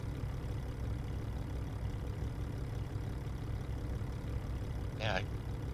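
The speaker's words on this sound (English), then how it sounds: "You guys hear my engine?" Volvo VNL truck engine idling in American Truck Simulator, a steady low rumble running throughout, with a brief chirp near the end and no talk.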